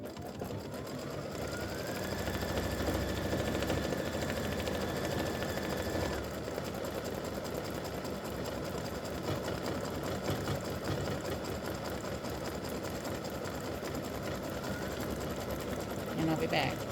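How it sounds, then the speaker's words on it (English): Sewing machine satin stitching yellow football appliqués on a mug rug, a steady fast mechanical hum running throughout at moderate volume, with a faint rising whine early on. "I'm doing the satin stitching on the last of the footballs."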